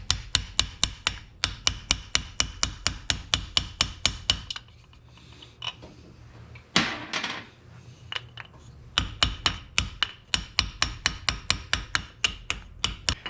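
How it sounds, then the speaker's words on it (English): Hammer blows driving a bearing off a Yamaha XS650 motorcycle part, rapid loud metallic strikes in steady runs, a pause with a brief scrape, then another quick series of hits, no talk. "Drive the other side off."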